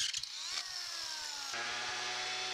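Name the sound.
power drill boring holes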